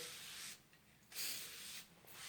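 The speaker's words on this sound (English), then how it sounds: "I spray liquid starch" Three quick bursts of a pump spray bottle of liquid starch hiss close by, each a soft airy spritz separated by brief pauses.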